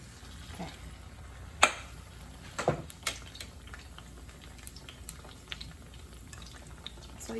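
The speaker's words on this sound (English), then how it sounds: "So I'm going to put the tempeh into the" Tempeh mendoan fries in hot oil in a frying pan over medium heat, a soft continuous sizzle broken by a few sharp clicks and taps of the pan, with no talking.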